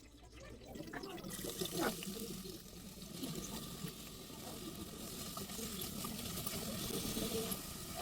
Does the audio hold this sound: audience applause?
no